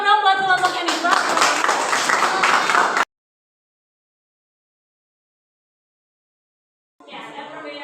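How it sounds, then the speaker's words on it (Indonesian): A burst of clapping from a group of students in a classroom lasts a few seconds and stops abruptly, followed by silence and then a voice speaking. "kasih tepuk tangan dong buat kelompok yang di bawah"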